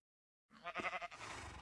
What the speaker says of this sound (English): now we have a little baby sheep